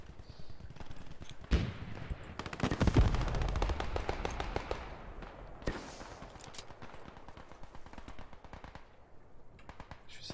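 Bursts of video game gunfire, rapid automatic rattling and cracking shots that come in clusters at moderate loudness, thinning out toward the end.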